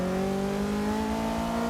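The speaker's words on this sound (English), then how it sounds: "Touch the brakes, turn in and start to gently accelerate up this hill." A car accelerates on the Nürburgring racetrack, its engine holding a steady, loud, rising drone with clear harmonic tones and no voices.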